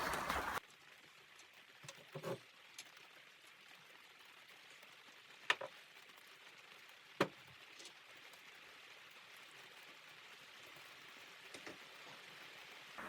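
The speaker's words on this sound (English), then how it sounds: "it's just started raining, if you can hear that in the background" Light rain beginning to fall outdoors during work on a Renault Clio 1.5 dCi suspension: a faint, steady patter with a few sharper drops standing out, low and distant throughout.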